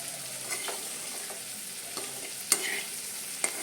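Raw banana (kappanga) thoran being stirred in a pan, with a few soft spoon scrapes and taps over a faint, quiet sizzle and no talking.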